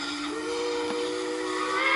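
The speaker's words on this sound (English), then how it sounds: "let's blow the whistle." A steam locomotive whistle sounds in the Trainz (T:ANE) simulator, a sustained steady tone with hissing steam held for the full two seconds, fairly loud and alone.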